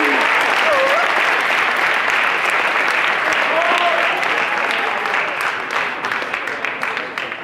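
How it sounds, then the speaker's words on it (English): A football banquet crowd gives a long, loud round of applause, sustained dense clapping with a faint whistle and a few voices mixed in, easing off toward the end. "Let's give him one more round of applause."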